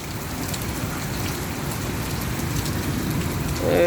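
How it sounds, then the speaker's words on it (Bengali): Steady rain falls during a downpour near a waterlogged field where floodwater has pooled, a dense, continuous hiss of drops close by with no voices, swelling slightly louder toward the end. "বৃষ্টি শুরু হয়েছে।"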